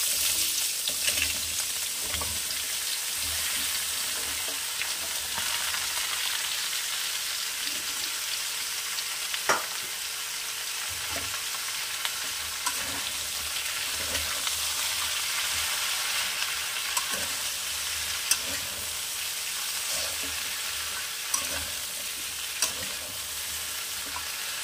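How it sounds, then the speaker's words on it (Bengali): Chopped vegetables for a Bengali chapri ghonto fry in a pan with a constant, dense sizzle, broken by occasional clinks and scrapes of stirring, steady and close throughout with no voices. "সব একসাথে দিয়ে একটু ভাজা ভাজা মতন করবো।"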